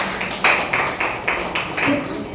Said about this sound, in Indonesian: Berikan tepuk tangan buat.